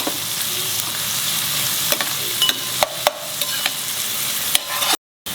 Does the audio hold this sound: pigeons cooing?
no